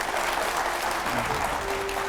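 Loud, dense audience applause welcoming Akhilesh Yadav at a political event, sustained and steady throughout with a faint crowd murmur underneath.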